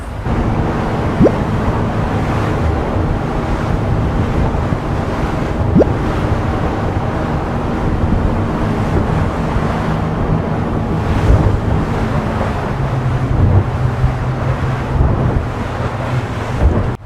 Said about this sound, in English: You can see the waves are coming at the side of our boat.